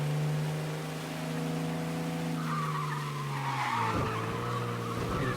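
A car in Mafia Definitive Edition sliding through a turn, a loud tire screech holding steady over the engine hum before breaking into rougher skidding noise as the car loses grip.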